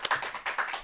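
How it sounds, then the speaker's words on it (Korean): A studio audience claps to welcome former party leader Lee Jung-hyun onto a political talk show, a brief burst of scattered, moderately close hand claps with no voices. "큰 박수로 환영해 주십시오."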